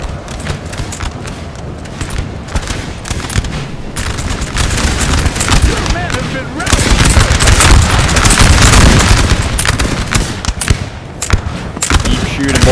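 Musket volleys crackle from massed infantry in a Napoleonic battle in Napoleon Total War, with dense, overlapping rapid pops and rolling booms. The firing builds louder midway while a voice talks over it.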